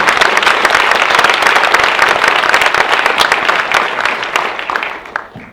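Sustained applause from an audience at a holiday event, a dense, even wash of clapping that holds steady before tapering off near the end, with no voices over it.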